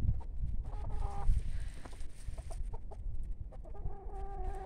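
Several rescue hens cluck softly and intermittently over a dull, steady background rumble, with no one speaking.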